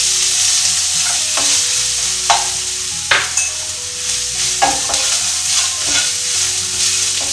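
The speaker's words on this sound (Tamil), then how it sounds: "கொஞ்சம் கருவேப்பிலை ஆட் பண்ணிக்கலாம் கேஷ்யூ ஆட் பண்ணிக்கிறேன் இப்போ கொஞ்சம் கோகனட் ஆட் பண்ணிக்கலாம்" Curry leaves, cashews and coconut fry in a pan for coconut sevai with a loud, steady sizzle. Scrapes and stirring clicks break through the sizzle again and again, close up.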